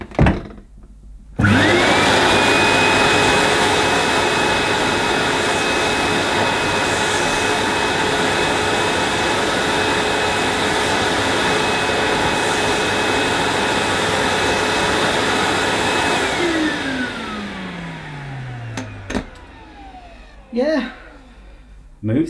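Vax Luna 3 in 1 vacuum cleaner switched on, a loud close motor whine that holds steady for about fifteen seconds and then winds down, with a person speaking briefly near the end.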